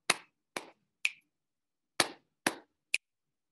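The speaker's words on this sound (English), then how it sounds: "We could do a clap, clap, snap." Children clap and snap their fingers in a clap, clap, snap rhythm, six crisp hits in all in two even groups of three, quiet and with no voices.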